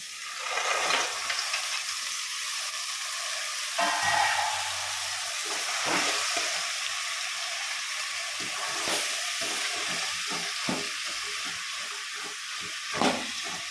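Green peas sizzle and hiss loudly in a hot pan with tomato, a steady bright frying noise broken by scraping strokes of a spoon as they are stirred.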